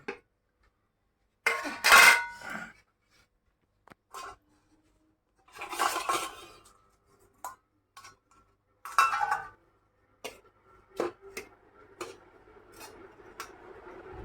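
Utensils clink and scrape against plates and pots as rice is served at home after cooking lentil fritter curry and greens, in sharp separate bursts with quiet gaps and no talk.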